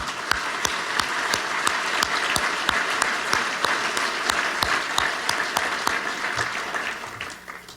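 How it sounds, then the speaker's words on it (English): An awards-event audience claps in a loud, sustained round of applause, with sharp individual claps standing out near the microphone, before the sound fades away at the end. "Give him a big round of applause."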